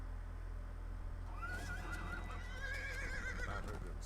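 A horse whinnies loudly in a video game, a rising then wavering neigh over a steady low game hum, with no talking.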